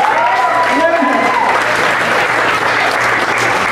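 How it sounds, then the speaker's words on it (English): Theatre audience at a Broadway Golden Era singers' show applauding loudly, a dense steady wash of clapping with a few cheers and whistles over it, filling the whole stretch. "Give yourselves a big round of applause."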